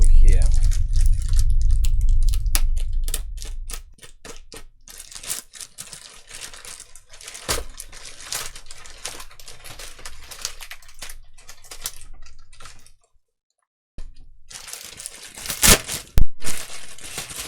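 A package of radio accessories is cut open and unwrapped at close range, with crinkling plastic, scattered clicks and tearing rustles, plus a low rumble at the start.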